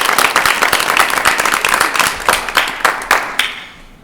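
Audience clapping during a play reading about Tolstoy, with dense claps sounding close and steady throughout before tapering off near the end.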